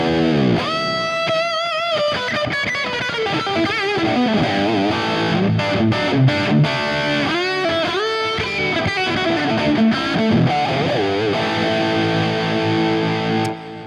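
Electric guitar through a Fractal lead preset modeled on a Custom Audio amp, heavily distorted, playing a fluid run of sustained notes, bends and fast phrases, loud and upfront with no talking.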